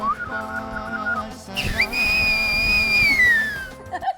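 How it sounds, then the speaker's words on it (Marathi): A man whistles a single sustained, piercing tone that bends slightly in pitch for about two seconds, loud and close, following a short stretch of harmonic melodic sound. "माझ्या वडिलांच्या मध्ये जसे नाट्यगुण होते ना तसेच ते उत्तम शिट्टी वाजवतात"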